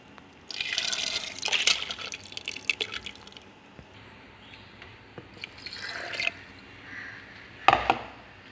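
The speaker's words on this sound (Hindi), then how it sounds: "हमने थोड़ा सा पानी डाल दिया।" Water is poured into ground mash lentils while making dahi baray, heard as several close splashing bursts with drips and trickles in the quieter gaps between them.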